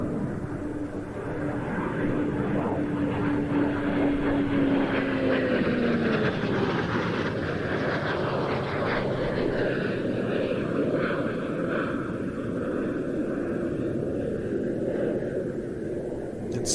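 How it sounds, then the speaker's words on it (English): A Pilatus PC-21 turboprop advanced trainer flying high overhead at an air show, a steady loud propeller drone with shifting pitch as it passes, sustained throughout. "A turboprop-powered advanced jet trainer which originates from the Swiss manufacturer Pilatus"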